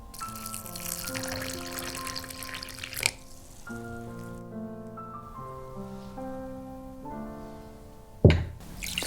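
Water poured over dried shrimp for soaking, a steady pouring and trickling into a bowl under soft background music, ending with a short louder splash.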